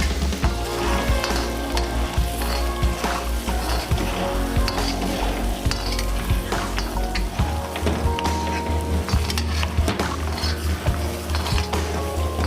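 Peshawari namkeen karahi undergoing bhunai in a karahi pan, giving a loud, dense, continuous sizzle with stirring scrapes throughout and no one speaking.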